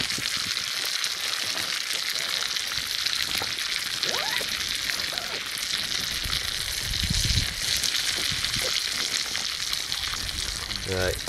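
Steak sizzles over a campfire at a cold wild camp, a constant loud frying hiss with crackle throughout, joined briefly by faint voices partway through.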